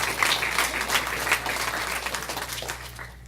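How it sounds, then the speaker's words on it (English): A congregation at a Shabbat speaker event applauds in a dense, fairly loud burst that gradually thins and fades, with no talk over it. "Yeah, you could clap for that"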